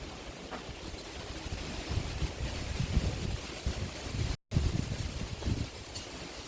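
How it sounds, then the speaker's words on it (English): Wind blowing outdoors in a broad, steady rush that buffets the microphone, with low rumbling gusts that swell and ease, loud and close, with no talking. "Can you guys hear the wind?"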